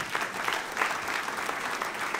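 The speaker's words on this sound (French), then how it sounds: "Vous pouvez applaudir si vous voulez applaudir." A church congregation applauds together at a sermon, a steady wash of many hands clapping at moderate level with no talk over it.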